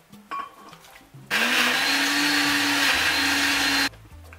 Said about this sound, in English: we're going to combine everything together and blend in a blender